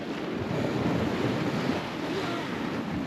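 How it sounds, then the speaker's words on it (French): Sea waves washing against a sailboat off the Grenadines as it lies nearly still with the swell coming from behind, a steady close wash of water mixed with wind rumble on the microphone, no voices. "on a des vagues, comme la mer vient un peu de derrière"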